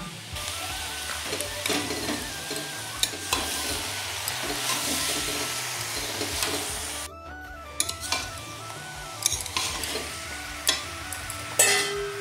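Pre-fried fish head frying with cabbage and cumin paste in a pan, a steady sizzle with repeated stirring scrapes and a few sharp clinks of a spoon against the pan.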